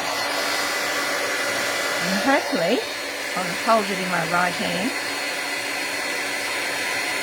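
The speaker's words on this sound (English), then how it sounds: "Now, I'm going to turn on my heat gun, so please excuse the noise." A heat gun curing powder blows a steady, loud airy roar throughout, while someone speaks briefly over it.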